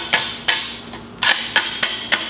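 A putty knife scraping and chipping stuck metal bits off the back of a plasma-cut metal board, six sharp metallic strikes spaced irregularly and heard close up with no talk.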